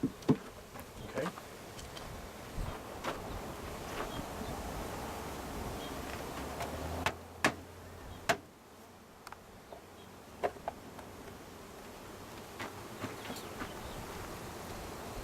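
Honeybees buzz steadily around a hive from a drone-laying queen colony, a soft continuous insect hum with occasional clicks and knocks over it.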